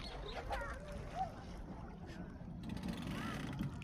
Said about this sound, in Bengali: ট্রলার এখন ভিড়তেছে